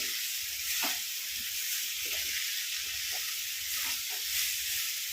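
Koorkka thoran being stirred in a pan over a low flame, with a constant soft sizzle and hiss and faint scraping strokes of a spoon at an uneven rhythm.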